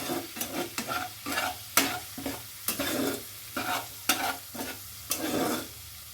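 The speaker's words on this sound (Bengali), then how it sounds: "মশলাটা ভালোভাবে কষানো হয়ে গেছে" A spice masala with turmeric and Kashmiri chili powder is sautéed for a paneer dish, with a spoon scraping the pan in rhythmic strokes over a low, continuous sizzle close by.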